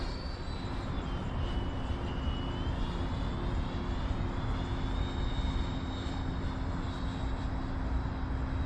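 A Freewing T-45 Goshawk 90mm RC jet plane flies past, its ducted-fan whine steady and fairly loud, with a pitch that rises and falls as it moves through the air.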